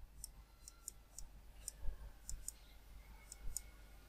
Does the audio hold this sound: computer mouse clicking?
yes